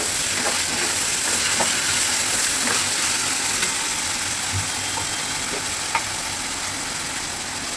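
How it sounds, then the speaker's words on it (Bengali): Potatoes and onions fry in hot oil in a wok, giving a steady, moderate sizzle with faint crackles and a low background hum throughout. "এখন আমি আলু আর পেঁয়াজটা ভেজে নেব ডিম রান্না করার।"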